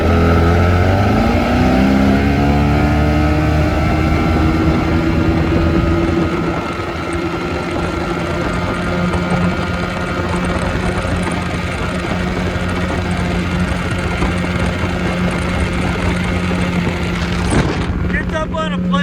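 A Mercury 120hp Force two-stroke outboard roars loudly as the boat launches, its engine pitch climbing steadily over the first few seconds, then holding a strong, steady drone at speed with wind and water rush throughout.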